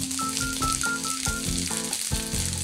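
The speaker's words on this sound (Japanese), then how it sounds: "お好み焼きをまさに焼くようなイメージで焼いていってください" Stir-fried noodles pressed flat across a hot frying pan over fairly high heat sizzle and crackle steadily, with light clattering rattles from the pan, close and without talk.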